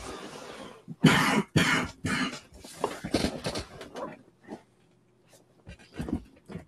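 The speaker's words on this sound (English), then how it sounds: "That was me coughing." Several hard coughs and throat-clearing bursts from a man on a fantasy football podcast, loud and close, coming in clusters with short pauses and trailing off near the end.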